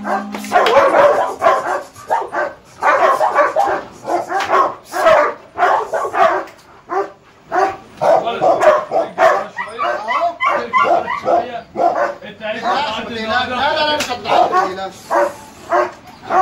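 A dog barks repeatedly in loud, close bursts with some whimpering yips between, while someone talks and calls to it throughout.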